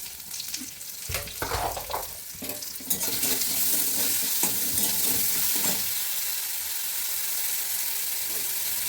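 Food stir-frying in a home kitchen, a steady broad sizzle that swells loud after a few seconds and holds, with scraping stirs and clatter near the start.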